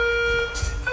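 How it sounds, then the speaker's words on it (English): A school fire alarm sounds as a loud, sustained electronic tone with steady pitched harmonics, continuous through the moment with a little background noise underneath. "The moment I hear that fire alarm beep"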